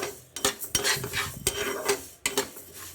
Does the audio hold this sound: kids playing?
no